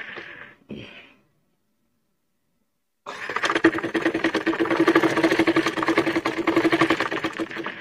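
A sewing machine stitches a bolster pillow cover with a close, rapid, rhythmic mechanical chatter that runs steadily for about five seconds. It follows a few brief handling sounds and a pause of silence.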